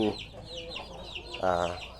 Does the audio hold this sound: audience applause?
no